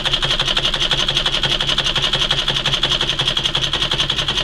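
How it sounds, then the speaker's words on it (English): A treadle-powered domestic high arm fiddlebase sewing machine runs steadily up close, its needle mechanism making a fast, even rhythmic clatter with a continuous mechanical whir and no talking. "as you treadle, you're going to move the thread back and forth."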